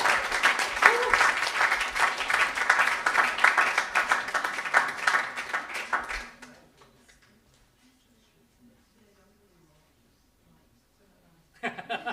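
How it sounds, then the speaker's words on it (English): A round of applause from an audience at a changemakers certificate ceremony with the mayor, steady dense clapping for about six seconds, then silence before a brief burst of sound at the end. "give you a big round of applause"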